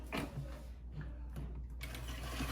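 A sewing machine stitches a short seam through foam for a bra cup, a steady mechanical whirring run with a low motor hum, heard alone at close range.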